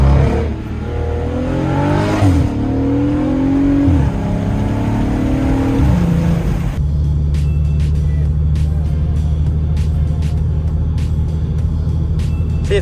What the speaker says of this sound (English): This motor screams so much more than it did before.